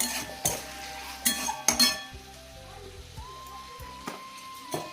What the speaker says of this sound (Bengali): মশলা দিয়ে কষিয়ে নেবো। টমেটো কুচনো দেবো, একটু নুন দেবো